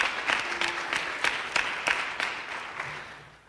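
Applause from an audience at a governor's gun safety press event, a room of clapping hands with distinct individual claps standing out, tapering off toward the end.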